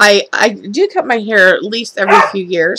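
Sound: dog barking

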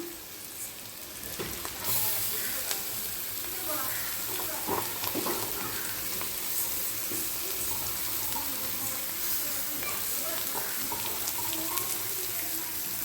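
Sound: sautéing carrots in a pan

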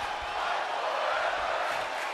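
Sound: crowd cheering in WWE 2K24 video game

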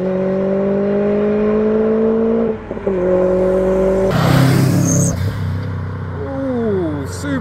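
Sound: Lotus Elise sports car passing at speed

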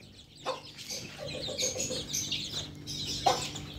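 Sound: hen clucking

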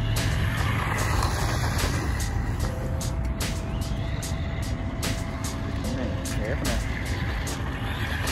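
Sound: DEERC H16E RC truck driving laps with gyro

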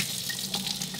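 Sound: hands being washed under running tap water

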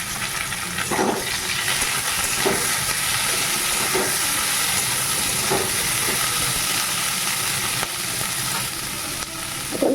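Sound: potatoes and onion frying in a pan

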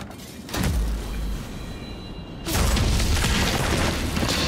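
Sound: gunshots from the video game Nobody Wants to Die

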